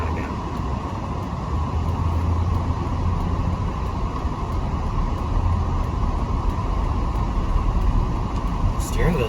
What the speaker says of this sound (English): Test driving the Volvo